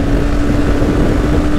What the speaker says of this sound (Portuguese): Pegamos 132 aqui na descida, de peito aberto, com vento.